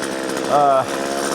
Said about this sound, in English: as you can sometimes hear, my chainsaw is